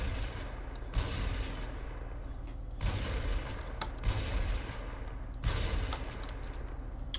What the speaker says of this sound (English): this is a normal pump shotgun